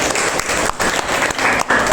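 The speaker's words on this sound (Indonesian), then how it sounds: "Tepuk tangan dulu." Audience in an Islamic inheritance law class bursts into brisk applause, loud and close, with a few short dips in the clapping over two seconds.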